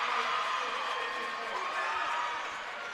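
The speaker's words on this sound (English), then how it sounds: "And the crowd is loving Green right now." College basketball crowd cheering in an arena, a loud, steady roar that holds and slowly eases, with a commentator's voice faintly over it.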